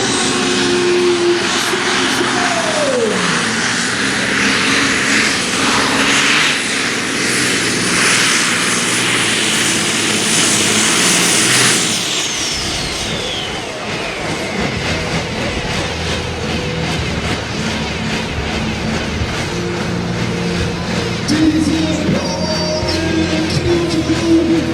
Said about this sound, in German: er geht an die 3000 PS russischer V12 Diesel Transmaschmotor